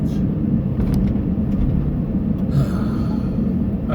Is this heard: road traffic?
yes